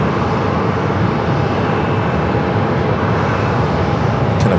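An airplane at Phoenix Sky Harbor airport gives off a steady, broadband engine roar that holds evenly for the whole stretch, loud and continuous with no talk over it.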